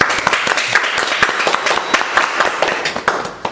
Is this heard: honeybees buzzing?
no